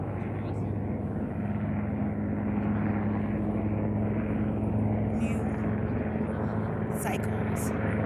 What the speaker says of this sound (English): I don't know why this helicopter is just kind of circling around me right now